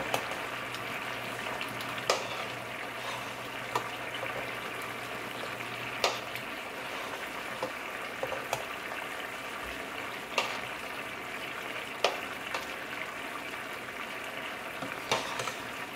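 Rice and chicken cooking in a pot on a stove, a soft continuous sizzle and bubbling hiss with occasional sharp clicks and knocks, quiet and steady with no talking.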